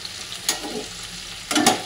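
Onions sizzle and fry in a pan, with two short bursts of louder crackling rising over a soft, steady background hiss.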